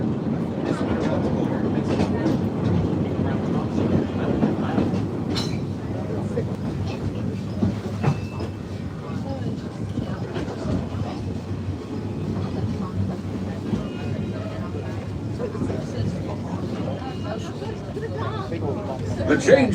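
A train rumbles steadily along the tracks with a constant low drone and faint rattling, loud and close throughout.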